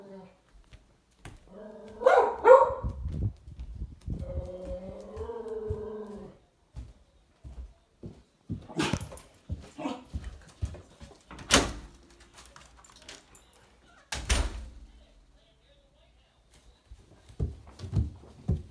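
A house dog barks and whines to be let out the door, with several sharp barks and a drawn-out whimpering yelp spaced among quiet gaps, fairly close indoors.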